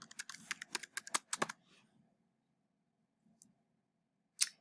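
Typing on a computer keyboard while searching a statistics database: a quick burst of close, crisp key clicks over about a second and a half, then quiet with a couple of isolated taps.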